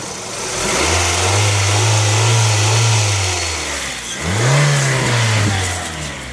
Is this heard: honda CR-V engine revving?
yes